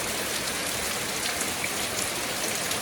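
Rain falling in a jungle setting, a dense continuous hiss of drops pattering close by, steady and even throughout with no voices.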